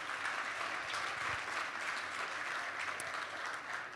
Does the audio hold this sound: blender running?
no